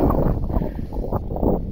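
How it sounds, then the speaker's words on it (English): Wind gusts buffet the microphone outdoors in the UK during free lunging in a field with a tarp, giving a loud, continuous low rumble with no talk. "It's windy out."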